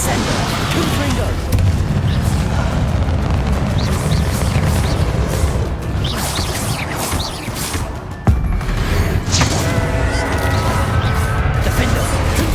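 Spell explosions and impacts in the video game Hogwarts Legacy: dense, continuous booms, crashes and whooshes from combat spells, loud and close, with a brief dip and a fresh burst of blasts partway through.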